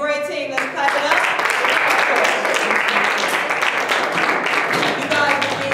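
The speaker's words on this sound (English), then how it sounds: "White team and gray team, let's clap it up" Audience applause for the white and gray teams at a live team game show, a dense, steady wash of clapping for several seconds, with a voice speaking briefly at the start and end.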